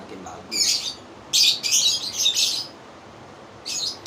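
A female lovebird gives bursts of bright, high chirps in short clusters, with pauses between them. The bird sounds close and clear against a quiet background.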